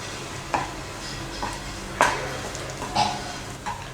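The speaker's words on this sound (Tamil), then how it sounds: "இப்போது கட் பண்ணி வச்சுருக்கிற கொத்தமல்லியை மேலே தூவி நல்லா மிக்ஸ் பண்ணிடலாம்." Spoon stirring potato masala with chopped coriander in a pan, a few soft scraping strokes at an even pace over a faint background sizzle, close and fairly quiet.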